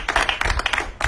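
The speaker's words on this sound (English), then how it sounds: "Please clap for them." A church audience claps, a quick burst of irregular, close handclaps with a few sharper individual slaps, heard alone without talk.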